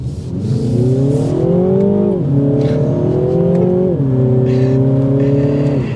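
A 2023 Mini Cooper S two-door hardtop's engine revs hard and accelerates, pitch climbing through gear changes, loud and close with a steady throaty drone.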